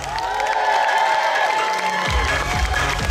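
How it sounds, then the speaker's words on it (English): Crowd at a 2015 comic con cosplay contest applauds and cheers for the judges, dense loud clapping and shouts running throughout, swelling with low rumble near the end. "Let's give a round of applause to our fantastic judges."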